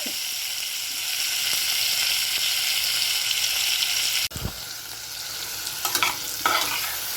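Brinjals sautéing in a generous amount of sesame oil for ennai kathirikai kuzhambu give a steady, close sizzle throughout, broken by a sharp clack of a spoon or pan partway through and a few light stirring scrapes near the end.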